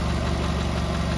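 A 2006 Ford Focus engine runs in a short burst, a steady close idle hum with an even low pulsing rhythm and no talking.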